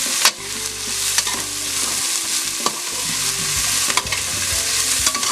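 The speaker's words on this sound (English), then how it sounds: "Stir this up." Garlic sizzles loudly in a pot while a utensil stirs it, repeated scraping strokes and clicks over a constant hot frying hiss, close and with no talk.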